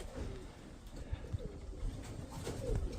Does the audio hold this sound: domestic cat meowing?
no